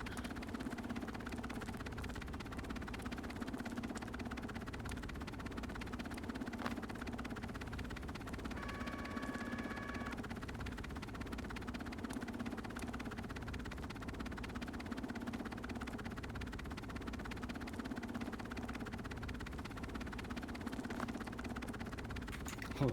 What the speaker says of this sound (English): that chopper sound is still going on